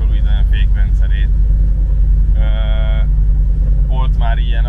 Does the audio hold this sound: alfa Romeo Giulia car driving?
yes